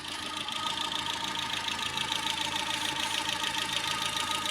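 A 2012 petrol car's engine runs steadily at idle, a continuous close mechanical drone with a faint knocking texture and no voices.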